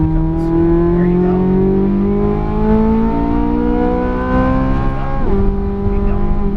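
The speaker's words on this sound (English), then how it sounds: "Now accelerate full throttle out to the cones." A car accelerates at full throttle on the Las Vegas Motor Speedway course, its engine a loud, steady, close roar that climbs in pitch, then drops sharply near the end as it shifts up and carries on.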